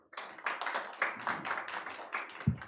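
Audience clapping at a forum, a modest, fairly sparse round of hand claps heard at close to mid distance, with a thump near the end, no talking.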